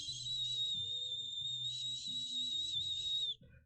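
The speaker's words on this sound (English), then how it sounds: "That's the closest I've ever gotten to whistling." A person whistles one long, sustained high tone that wavers slightly, fairly faint, over a quiet low background hum, then stops abruptly.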